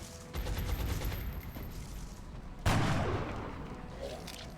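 Suppressive gunfire rattles in the XCOM Long War strategy game, a sustained burst of rapid shots followed by a sharper, louder volley midway, fairly close and dense.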